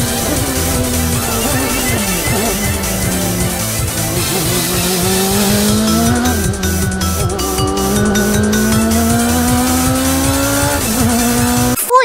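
A car chase scene from the visual novel Muv-Luv Extra, with engines revving and rising in pitch and tires squealing, all layered over a loud, driving Eurobeat-style soundtrack throughout.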